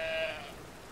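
A sheep bleats once in the video game Brothers: A Tale of Two Sons, a short, fairly quiet bleat that fades within a second.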